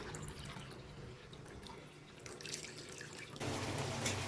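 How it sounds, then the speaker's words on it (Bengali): Water pours into a household drinking-water filter with a steady trickling splash that turns louder and fuller near the end, with no voices. "ফিল্টারে হচ্ছে পানি নেই, পানিটা দিয়ে দিই"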